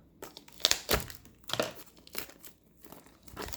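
Packaging from a Pokémon trading card game Build and Battle Stadium box crinkles and tears in irregular bursts as it is pulled open, close and fairly loud, with no talk.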